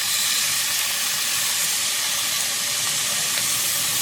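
Meat browning in a hot pan before sautéing, a steady broadband sizzle and hiss that stays loud and even throughout with no voices over it.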